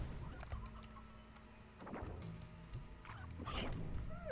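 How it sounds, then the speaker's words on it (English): Chickens cluck in short, scattered bursts inside the video game Slime Rancher, set against a steady low background hum. "Chickens! Chickens! Do they eat you?"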